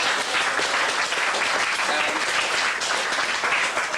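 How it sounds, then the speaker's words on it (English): Wedding guests applaud the groom, with a dense, steady burst of clapping that carries evenly through the whole stretch and no clear talk over it. "And a quick round of applause for Chris."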